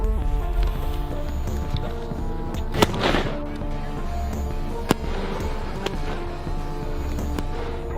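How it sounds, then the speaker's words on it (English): Several sharp firework bangs and crackles pop at irregular intervals over a steady background rumble and din. "Oh, it's fireworks."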